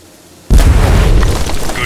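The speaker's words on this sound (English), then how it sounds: "That explosion will sure attract some company." A sudden loud explosion in the video game Aliens: Dark Descent, one heavy boom that bursts out of near silence and leaves a long, rumbling roar trailing behind it.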